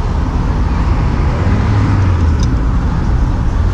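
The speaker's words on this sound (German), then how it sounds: "Und es ist viel Verkehr." Heavy road traffic in Miami, a loud, steady roar of cars and buses close by, with a low engine drone swelling midway and no pauses.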